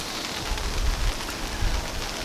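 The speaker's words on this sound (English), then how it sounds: "It is now raining." Rain falls steadily outdoors in the UK, a dense even hiss of drops on surfaces with a few heavier patters, nearby and continuous, with no voices.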